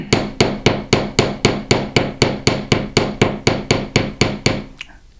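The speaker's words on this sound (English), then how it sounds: "I'm going to hammer right to where the two sides start to widen back out into a circle" A fine silver fused clasp is struck with a hammer in a fast, even run of about eighteen sharp metallic taps, loud and close, stopping abruptly near the end.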